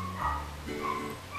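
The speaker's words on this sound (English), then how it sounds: "Dog's having an epileptic fit in there." A dog, reportedly having an epileptic fit, gives brief whimpering, yelping vocal sounds at close range in a short, quiet burst.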